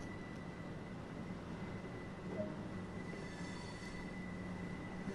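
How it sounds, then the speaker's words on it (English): A passenger train rolls into a station on the East Coastway line between New Haven and Brighton in Train Sim World 2, heard as a steady, quiet rumble of wheels with a faint high squeal and no talking. "And there's another train coming in"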